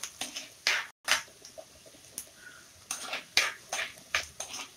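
Onions sautéing in a pan for rajma gravy: faint, close scraping and clinking of a spoon against the pan in irregular bursts, with quiet sizzling between strokes and no talking.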